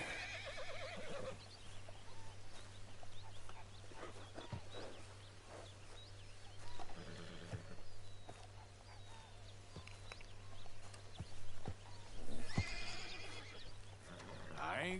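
Horse whinnying in the Red Dead Redemption 2 video game, a few neighs and snorts at moderate distance over quiet outdoor ambience with faint hoof steps and birds.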